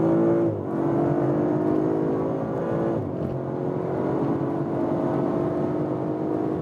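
A 2021 Audi RS5 Sportback with a 450 hp engine revving hard toward the red limiter, heard from inside as a loud sustained engine note with a drop in pitch and a renewed climb.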